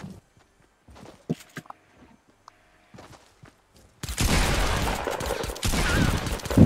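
Fortnite gunfire: scattered light footsteps and small clicks give way to a loud, sustained burst of rapid shots that roars on for several seconds, close by.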